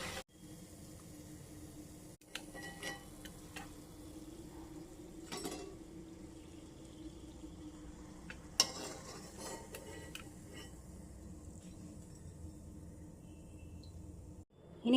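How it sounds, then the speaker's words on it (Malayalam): Fried cauliflower being scooped out of hot oil, with faint sizzling and occasional metal utensil scrapes and clinks against the pan, quiet and sparse. "ഇനി നമുക്ക് എണ്ണയിൽ നിന്ന് കോരി മാറ്റാം."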